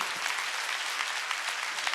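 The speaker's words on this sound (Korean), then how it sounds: "박수야" Sustained applause from a congregation at a Korean church Sunday worship service, dense and steady clapping filling the space for the whole stretch with no pauses.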